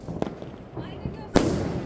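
Diwali firecracker shots going off outdoors, a few sharp cracks followed by one louder bang near the end, with people's voices under the blasts.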